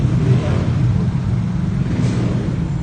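A nearby motorcycle engine gives a loud, low, continuous rumble that holds steady from start to end and masks other sounds.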